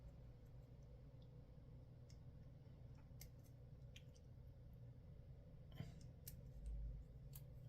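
Sharp, quiet snips and clicks of cutters trimming small plastic hand parts from a Moderoid model kit sprue for Gran Sigma, a handful of separate cuts spaced out over faint background hum.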